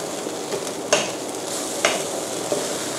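Thai nam prik jaew bong chili paste is stir-fried in a pan, with a soft continuous sizzle and three distinct scraping strokes of the spatula, close up and without talk.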